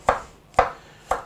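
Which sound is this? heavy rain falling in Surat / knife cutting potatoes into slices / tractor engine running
knife cutting potatoes into slices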